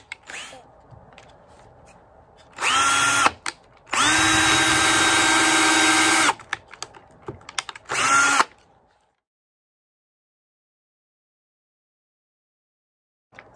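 A power drill drives screws into pallet wood for a sign, giving three bursts of steady whirring, the middle one longest, each ending in a sharp stop, followed by near silence.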